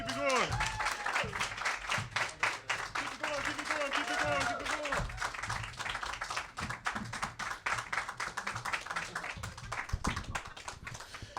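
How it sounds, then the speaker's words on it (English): A comedy club crowd breaks into steady applause for a comedian, dense clapping running throughout, loud and continuous, with a host's voice talking over it in the first half. "Start clapping right now, start clapping right now"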